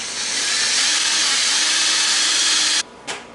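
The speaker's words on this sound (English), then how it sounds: "Now we're going to go ahead and drill a hole into this wooden dowel over here, so that way we can put our handle on our sword." A power drill bores a hole into a wooden dowel for a sword handle, a loud close steady whine and grinding that stops abruptly near the end, followed by a brief short burst.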